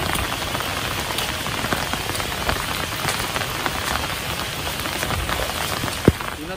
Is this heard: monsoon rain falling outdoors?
yes